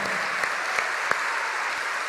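A church congregation claps in a steady wash of applause, with a few louder individual claps standing out and no voices over it.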